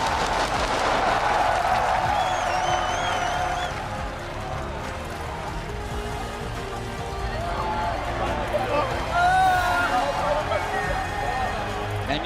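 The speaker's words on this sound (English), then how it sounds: "the crowd's giving a standing ovation after that one" A large crowd gives a standing ovation in a big arena after a League of Legends World Championship win, cheering and applauding continuously, a steady roar with voices talking over it.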